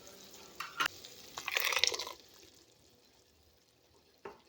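A thick ground coconut paste is scraped and stirred into a sizzling masala in a pan, with a loud burst of frying followed by quieter bubbling and a final clink.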